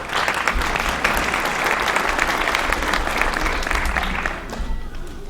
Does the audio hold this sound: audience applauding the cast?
yes